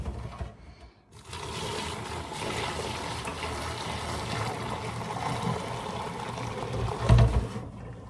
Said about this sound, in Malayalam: അപ്പം നമുക്ക് കുറച്ച് വെള്ളം ഒന്ന് ഊറ്റിക്കളയാം.